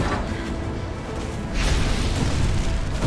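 Nemesis exploding in the Resident Evil 3 Remake video game, a loud, sustained rumbling blast that swells partway through and stays dense and roaring to the end.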